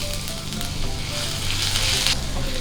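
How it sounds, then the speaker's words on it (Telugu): Small pieces of ginger sizzle steadily in hot oil with cumin seeds in a pan, a loud, close, continuous frying hiss with no talking. "అల్లం ముక్కలు కొంచెం వేగనివ్వాలి."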